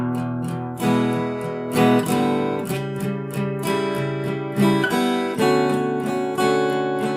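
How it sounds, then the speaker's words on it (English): An acoustic guitar is strummed in a steady rhythm, with ringing open-string strums sounding between the chord changes, close and clear. "playing all the open strings without playing a chord"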